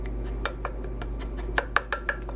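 A spoon mixing hamburger steak ingredients with Worcestershire sauce in a bowl, several distinct clinks and taps of metal on the dish over a low hum, close and fairly quiet.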